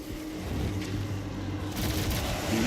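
Dense combat noise from DOOM (2016) gameplay on Nightmare difficulty: a continuous rumble of blasts and rapid gunfire-like bursts that grows slightly louder toward the end, with no voices.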